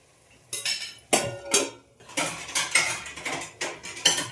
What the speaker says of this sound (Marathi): परत आपण झाकण ठेवू.